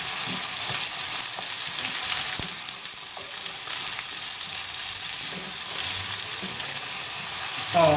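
Onion fries loudly with garlic and ginger in a sauce for a brown stew turkey leg, giving a dense, continuous sizzle close by, with faint stirring taps and a brief watery trickle near the end.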